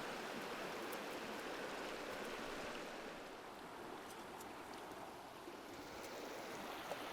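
A small creek in the Victorian high country flows in a steady, even rush of water, close and continuous with no voices.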